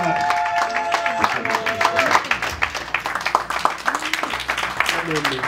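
Congregation applause in a church service, dense clapping filling the whole stretch with a tonal voice or instrument line early on and steady crowd noise beneath.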